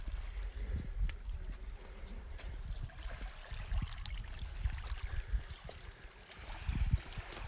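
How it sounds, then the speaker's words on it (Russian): Volga river water lapping steadily against a small-pebble shore near Laishevo, a continuous low churning wash with soft gurgles, close and fairly loud and with no voices. "как вода ее потихонечку размывает"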